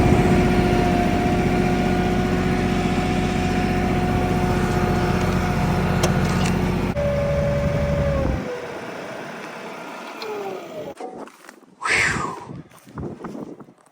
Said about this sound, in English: I figured you guys were tired of listening to that tractor.